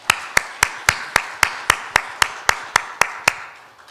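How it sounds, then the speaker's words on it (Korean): A church congregation claps in thanks during a Sunday service, a steady run of about a dozen sharp, evenly spaced claps in unison, close and loud, that fades at the end. "이들을 위해서 한번 감사의 박수 한번"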